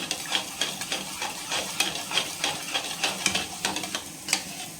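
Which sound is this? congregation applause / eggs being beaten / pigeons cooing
eggs being beaten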